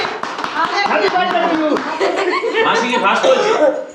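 A small group claps at close range in quick, scattered bursts, mixed with chuckling and lively talk.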